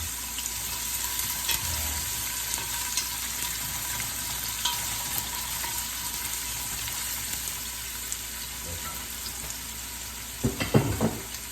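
Ginger and garlic frying together in a pan: a steady, dense sizzle throughout, close and fairly loud, with a few stirring clatters and a knock near the end.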